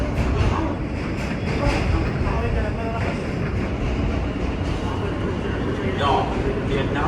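A New York subway train running on the Q line between Union Square and 96th Street, with a steady loud rumble and rattle of the car in motion filling the clip while passengers talk over it.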